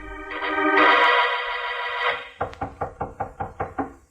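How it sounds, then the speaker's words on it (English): A series of about eight sharp knocks on an office door, evenly spaced and close, following a sustained tonal musical sting, set in a radio detective drama at night. "there was a knock on Mallard's door"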